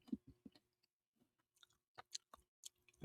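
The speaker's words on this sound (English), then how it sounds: "just munches on sausage." Someone chews and munches on sausage up close, with soft irregular wet bites and crunchy clicks scattered across a few seconds of otherwise quiet room.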